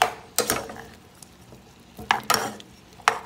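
Sliced cucumbers in a hot pan, stirred with a utensil that scrapes and clinks in a few sharp bursts over a faint sizzle.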